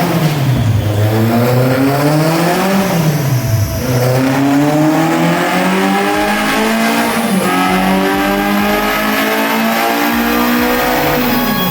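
Full race-spec VW Mk1 ABF engine with Jenvey individual throttle bodies, revving hard through the gears from first to fifth on a dyno, loud and close, with rising and falling engine pitch at each shift and no talk.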